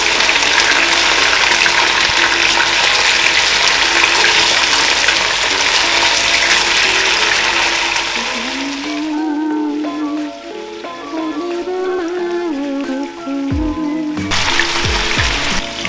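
Lemon pepper chicken cooking on a high flame makes a loud, steady hiss of sizzling fat that thins out partway through into quieter crackling, then surges back briefly at the end.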